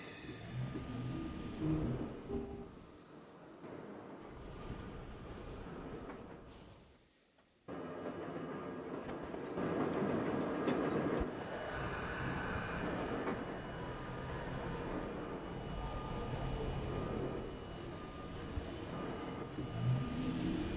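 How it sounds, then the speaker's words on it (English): A West Point bound H subway train in a train simulator game departs a station, its rumbling motor and rail noise building steadily and staying loud after a brief dip. "This is a West Point bound H train."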